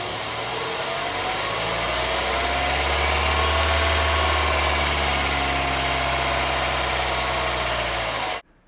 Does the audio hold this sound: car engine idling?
yes